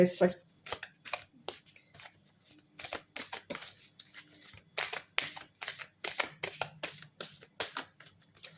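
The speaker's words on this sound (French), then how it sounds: "Je vais juste prendre une carte de plus pour voir un peu si on peut arrêter là" Tarot cards are shuffled and drawn close up in quick repeated bursts of riffling and snapping with short pauses between, while a quiet voice talks underneath.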